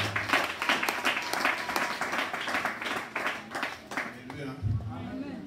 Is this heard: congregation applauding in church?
yes